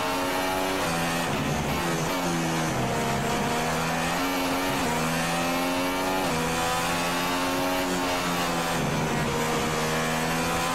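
Formula 1 car engine revving loudly and continuously in the F1 2016 racing game during a Spanish circuit lap, pitch rising and falling through gear changes with no voices.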